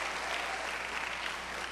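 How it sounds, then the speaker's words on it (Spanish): A church congregation claps together in sustained, dense applause that stays even and fairly loud for the whole short stretch, with no clear speech over it. "dele palmas al Señor"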